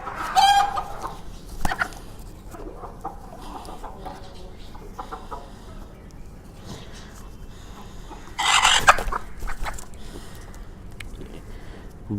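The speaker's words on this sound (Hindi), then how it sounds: "बहुत अच्छी मेरी प्यारी मुर्गी है।" A hen clucks and squawks while being handled and having her wings tied, with loud agitated bursts at the start and again later, over quieter rustling and faint background sounds.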